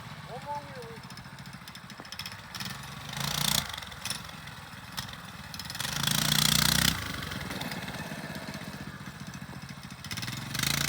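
A Coleman mini bike engine fitted with a torque converter runs unevenly at mid pitch, with revving surges and a louder rise partway through, mixed with outdoor noise.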